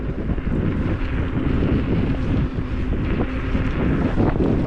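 Strong wind buffets the microphone while riding a Joyor S8-S electric scooter at 25 km/h on a cool day, producing a continuous low, rumbling roar with gusty swells and no speech.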